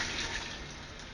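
Canned tomato juice poured from the can into a pot, a soft steady liquid trickle and splash that continues faintly and evenly for the whole moment.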